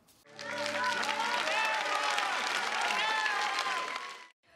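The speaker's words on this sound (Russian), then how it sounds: "Каждый, кто сегодня получал награды, заслужил бурные овации зала." An audience applauds at an award ceremony honouring regional culture workers in Volokonovka. The clapping is dense and sustained for about four seconds before cutting off, with voices or tonal sounds rising above it.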